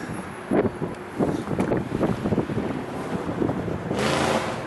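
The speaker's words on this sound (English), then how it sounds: "And it was very windy." Strong, cold wind at a memorial park buffets the microphone with steady roaring gusts, a loud continuous rush that swells in several bursts with no talking.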